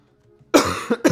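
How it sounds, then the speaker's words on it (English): A man gives a short, sharp double cough up close after a moment of near silence, two harsh bursts in quick succession. "Sorry, cough."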